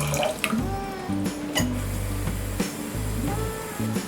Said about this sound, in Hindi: हमारे पहले मेथड के लिए हम ये पैन में पानी डालेंगे।